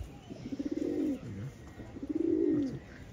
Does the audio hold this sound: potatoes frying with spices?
no